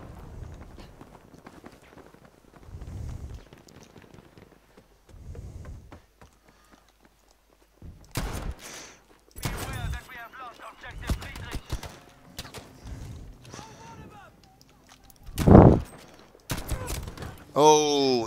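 Rifle gunfire in Battlefield V: several sharp, spaced shots ring out over quiet game ambience, with a couple of louder cracks near the end.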